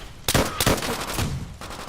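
Several sharp gunshots crack in quick succession in the video game World at War, a burst of rapid fire followed by another shot, loud and close, with no talking.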